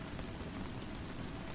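Steady rain falling on a surface, an even, continuous hiss of many soft droplets that holds constant throughout, with no voices or other sounds.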